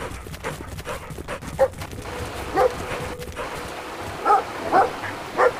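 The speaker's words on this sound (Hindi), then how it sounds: "यहाँ पे एक कुत्ता है और उस कुत्ते से बच के दोनों भाइयों को जाना होता है।" Dog barking in the video game Brothers: A Tale of Two Sons: several short, sharp barks at irregular intervals over a busy background of game ambience and music.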